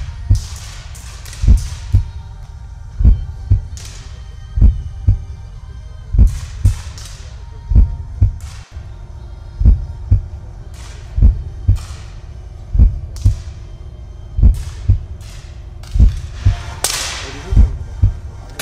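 A heartbeat sound effect plays over an air pistol shooting animation, a loud, steady series of double-thump beats repeating at regular intervals with a faint hum between them.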